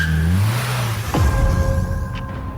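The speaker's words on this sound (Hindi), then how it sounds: "ड्राइवर वापस आया और गाड़ी स्टार्ट करके आगे बढ़ गया।" A car engine starts and the vehicle pulls away, revving up and accelerating with a rising then falling whoosh, loud and close with no talking.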